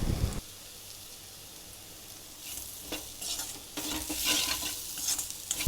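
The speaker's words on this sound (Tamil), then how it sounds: "நல்லா ஃப்ரை பண்ணிகிட்டே இருக்கிறோம் பாருங்கள்" Squid masala with onions and spices frying in a pan. A soft, steady sizzle gets louder and crackles more toward the end, with occasional stirring scrapes. No voices.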